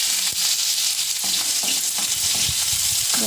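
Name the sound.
onion and broccoli frying in oil in a wok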